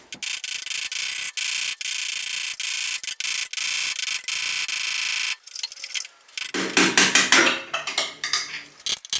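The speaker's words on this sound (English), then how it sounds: "tap, tap underneath, go to the other side, tap, tap again" Metal tapping and scraping while driving out the headstock bearing cups on a Suzuki Hayabusa motorcycle, a run of sharp knocks and rasping at close range, then a pause and a burst of irregular clattering handling noise.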